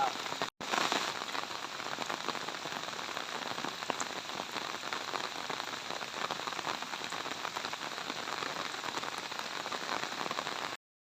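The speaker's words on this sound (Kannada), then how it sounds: "ತಗರ್ಸೆ ಗ್ರಾಮದಲ್ಲಿ ಸಿಕ್ಕಾಪಟ್ಟೆ ಮಳೆಯಾಗಿದೆ" Heavy coastal rain in Tagarse village, Karnataka, pours steadily and loudly, a dense continuous hiss of drops hammering a surface, with a brief dropout near the start.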